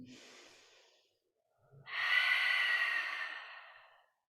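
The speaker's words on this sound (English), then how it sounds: "Deep breath in. Second breath. Third breath in." Slow, deep yoga breaths: a soft airy exhale fades out, a short pause follows, then a longer, louder inhale rushes in close to the ear.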